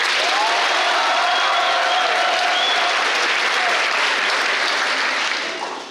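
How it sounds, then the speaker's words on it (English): A school assembly audience claps to vote for a contestant, a dense, steady wash of applause with faint whoops that holds for several seconds and then starts to taper off. "If you think Paul is the winner, please clap"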